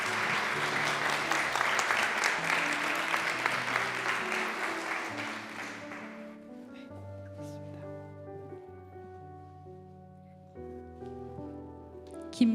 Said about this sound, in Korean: 수료패를 수여할 때 뜨거운 박수 부탁드립니다